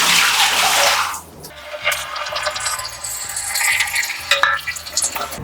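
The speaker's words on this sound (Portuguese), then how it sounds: "Joguei no canto e a água escorreu pro ralo do jeito que tem que ser." Water tossed from a bucket splashes loudly across a new apartment's floor for about a second, then trickles and drips away toward the drain during a floor-slope test.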